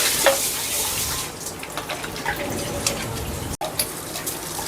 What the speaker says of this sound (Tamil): இதில் கொஞ்சம் முந்திரி பருப்பு, கொஞ்சம் பாதாம் பருப்பு வறுத்து இந்த கூழில் ஊற்றிக்கலாம்